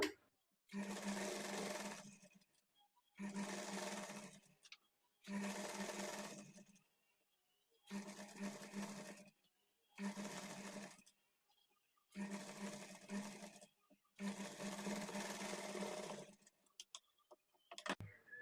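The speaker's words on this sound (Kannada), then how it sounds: "ಈಗ ಇದನ್ನ ತಿರುಗಿಸ್ಕೊಂಡು ಇದ್ರ ಮೇಲೆ ಡಬಲ್ ಸ್ಟಿಚ್ ಹಾಕ್ಕೊಳ್ಬೇಕು" A sewing machine stitches a double seam along the side of a blouse in a series of steady bursts, each run lasting about two seconds with short pauses between, close and clear with no talking.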